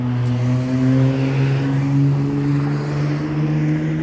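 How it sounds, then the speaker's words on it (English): A loud car drives past outdoors, its engine a steady, droning hum that holds strong for about four seconds with no talk over it. "It's always the loudest cars that are the not nice looking ones."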